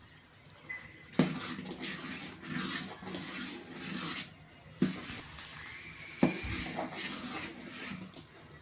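A spoon stirs payasam in a metal pot, giving scattered clinks and knocks against the vessel with soft scraping between them, close and moderately quiet.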